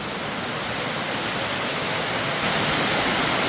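Spring water runs inside an abandoned mine, a constant close hiss of flowing water with no break and no voices.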